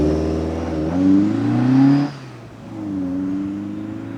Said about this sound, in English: Let's take it for a spin.